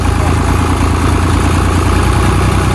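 A tractor stuck in the field with its engine running, a loud, close, steady rumbling idle that holds constant throughout.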